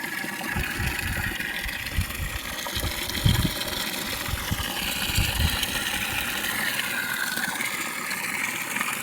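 An electric motor pump fills a household water tank, a continuous hum with water gushing and churning underneath, steady and close with a few low surges.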